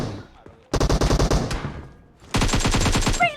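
Automatic weapon fire in PUBG Mobile, two loud sustained bursts of rapid, evenly spaced shots separated by a quieter gap, the second burst running to the end.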